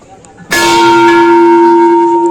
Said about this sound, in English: And you can see a big bell at this place.